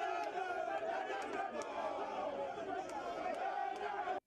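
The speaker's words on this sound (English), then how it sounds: "an angry crowd of tanker drivers were confronting someone" An angry crowd of tanker drivers confronting someone, many voices shouting and clamoring together in a dense, agitated roar at a moderate distance.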